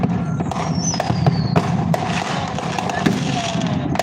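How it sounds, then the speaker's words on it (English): Fourth of July fireworks crackle and pop in rapid bursts on a street in East L.A., with a whistling rocket rising early and people talking nearby. "We'll get fireworks."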